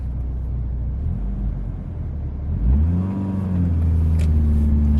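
A Mitsubishi Eclipse engine pulls away in first gear, its low rumble rising into a climbing rev as the car accelerates, heard from close by with no talk.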